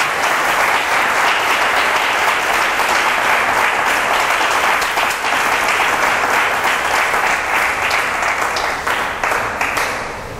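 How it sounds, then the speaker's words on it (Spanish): A church congregation at a convention in Arauca, Colombia, applauds loudly and continuously, a dense roar of many hands clapping that lasts around ten seconds. It eases off slightly at the very end. "Vamos a darle un aplauso a nuestro Señor porque Él hizo este sacrificio por nosotros."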